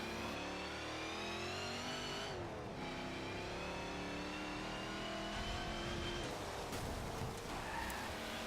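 In the racing game Forza Motorsport 7, a car on a race lap holds a loud, continuous engine drone that rises and falls through gear changes and corners, with occasional tyre squeal and no talking.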